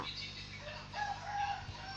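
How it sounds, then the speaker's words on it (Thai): Chicken clucking in the Minecraft survival game, a faint, short in-game cluck heard alone over quiet background noise. "มีไก่หลบหลุดเข้ามาได้นะ"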